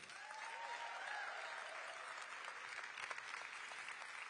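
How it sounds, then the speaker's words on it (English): A large crowd applauds Olympic and Paralympic athletes at Los Angeles City Hall, the dense clapping carrying on evenly throughout at a moderate distance. "Let's give a warm round of applause for all of our Olympians and Paralympians."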